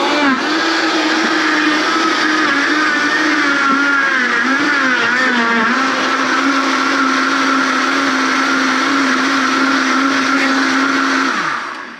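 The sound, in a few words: blender blending watermelon for juice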